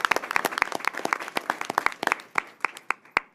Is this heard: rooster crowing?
no